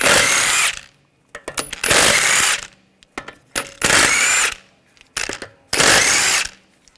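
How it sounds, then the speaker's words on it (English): Power tool driving a 17mm socket to remove wheel lug bolts on a 2007-2013 BMW X5, three loud whirring bursts of about a second each separated by quiet gaps with small clicks and clanks, close up. "Take the lug bolts out."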